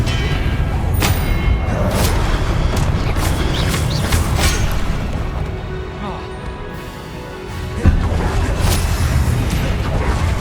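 Hogwarts Legacy spellcasting with an Expelliarmus disarming spell, heard as dense booming magical blasts and rumbling effects running for the whole stretch, with one sharp thump near the end.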